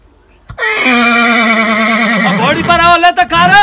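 A piebald horse gives one loud, long whinny close by, quavering and falling in pitch, with a second wavering call at the end and people talking nearby.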